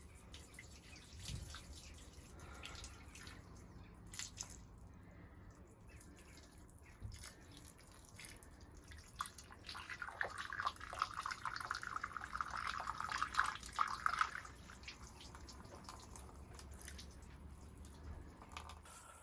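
Water pours over a narrowboat engine alternator to wash it, a steady trickle and splash that grows louder in the middle before easing off again.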